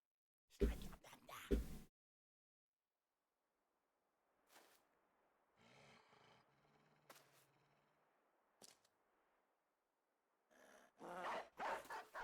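War dogs barking in the video game Battle Brothers, heard as a few sharp, loud bursts at the start and end, with fainter yips, whimpers and combat noises scattered through quieter stretches between.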